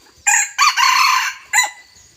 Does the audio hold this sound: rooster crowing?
yes